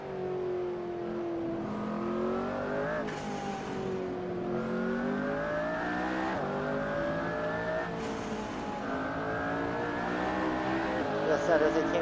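McLaren P1 engine note in the Assetto Corsa video game at Silverstone, repeatedly revving up through the gears with turbo whine and shift cuts, loud and steady over about twelve seconds.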